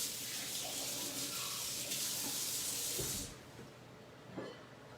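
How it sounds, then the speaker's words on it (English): A covered pot of homemade Italian meatballs gives off a steady loud steamy hiss that abruptly drops away partway through, leaving quiet low bubbling and a faint clink. "Let that simmer."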